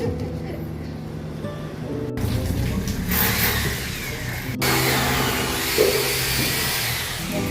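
A car engine runs after people get in, a steady mid-range drone swelling into a louder rushing roar, broken by a couple of abrupt jumps in the sound.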